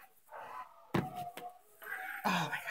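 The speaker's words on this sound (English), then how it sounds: "Sorry about my dogs." Nearby dogs whimpering and whining in short bursts, with a couple of sharper yelps mixed in, heard indoors in a home kitchen.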